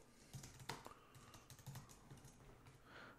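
Keys clatter on a computer keyboard in a quick, uneven burst of close, crisp taps with short pauses between them, recorded quietly indoors with no voices.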